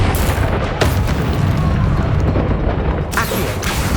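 Repeated heavy blasts of a Confringo spell in Hogwarts Legacy, deep booming explosions rolling continuously with sharp cracks near the start and end, loud and close.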